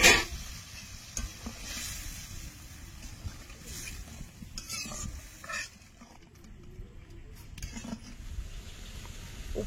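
Spice paste sizzling and frying in oil for a prawn curry as a little water is added and stirred in, giving a steady hiss with scraping and clinking of the utensil throughout.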